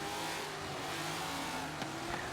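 A Nissan GT-R GT3 race car in Forza Motorsport 7 holds a loud, steady high-revving engine drone at full throttle during an endurance race, with no voices over it.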